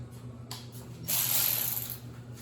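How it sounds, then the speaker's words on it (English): A ratchet wrench tightening bolts on a 1970 Honda CT70 in a garage, giving a few close clicking bursts followed by a longer rapid ratcheting run, with no talk. "we're gonna get the ratchet here. And we'll go ahead and tighten everything down."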